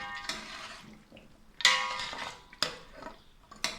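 Bone curry is served out of a cooking pot with a few scattered clinks and scrapes of a serving spoon against metal, fairly quiet and close, spaced out by short pauses.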